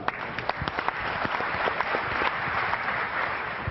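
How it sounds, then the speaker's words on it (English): Steady applause from the audience at a startup pitch competition, dense clapping filling the room for the full length without voices. "Big round of applause then for MotherKnows"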